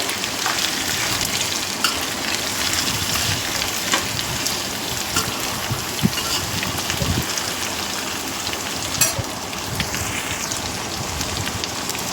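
Ivy gourd pieces sizzle steadily in a hot pan while being fried for a chutney, a dense, even crackle like heavy rain that runs unbroken and close throughout.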